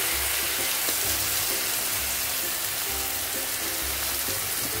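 Noodles frying with soy sauce and chili sauce hiss in a steady, loud sizzle, while a utensil stirs and scrapes the pan in a regular rhythm.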